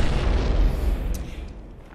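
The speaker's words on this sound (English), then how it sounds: "Explosions!" A deep, rumbling explosion in the Happy Wheels game, a loud low-end boom that rolls on and slowly fades away over a couple of seconds.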